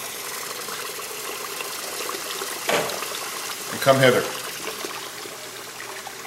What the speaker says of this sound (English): I'll just let some cold water trickle in there.